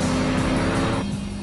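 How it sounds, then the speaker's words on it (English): A Lamborghini Diablo GT engine roars loudly and close on a race track, a steady rasping drone that eases off slightly toward the end. "The engine, a bit empty. Still, making plenty of noise."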